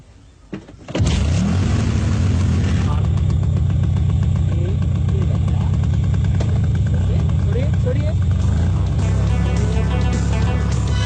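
A car engine is revved as the clutch is let out during a driving lesson: a quiet start, then a sudden surge into a loud, steady, droning roar that holds to the end.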